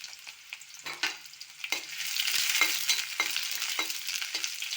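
Onion and green chilli frying in a pan, a steady crackling sizzle that swells and holds, punctuated by several sharp scrapes of stirring, close and with no voices.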